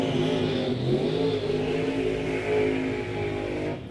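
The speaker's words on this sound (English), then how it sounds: "It's a Mazda RX-7 taking on that Chevy 2." Drag racing at Orlando Speed World Dragway, a Mazda RX-7 against a Chevy 2, engines revving and droning steadily, loud and continuous with a broad mechanical roar.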